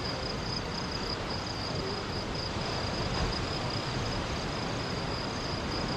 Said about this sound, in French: Quel plaisir de vous laisser entendre le chant des grillons et le fracas des vagues sur l'île de Ngor